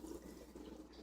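Water running steadily from a kitchen tap while ground meat is drained, a continuous close splashing stream with no talk.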